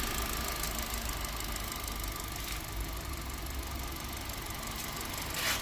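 A Hyundai i20 car engine idles after a service, a steady close mechanical hum that runs evenly throughout with no talk.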